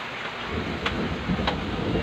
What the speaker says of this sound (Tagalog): Grabe ang lakas ng ulan na yun.